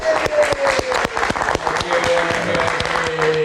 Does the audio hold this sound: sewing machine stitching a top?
no